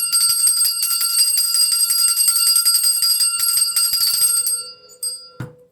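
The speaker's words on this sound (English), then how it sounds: "I'm finna ring the bell because I have to keep the negative energies away." A small hand bell is rung rapidly and continuously indoors, a bright close shimmering ring that keeps going for several seconds, then stops with a few soft knocks and handling sounds.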